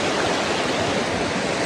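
Steady, full rushing of a mountain stream flowing at a trailhead, a constant broadband wash of water close by with no voices.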